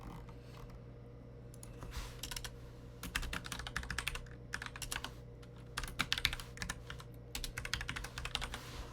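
Someone types a terminal command on a computer keyboard, with quick clusters of crisp, close key clicks broken by brief pauses, set against a low steady hum and no talk.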